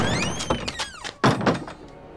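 A door being opened indoors: a drawn-out rising creak of hinges followed by a couple of close, solid knocks and thuds, no talking.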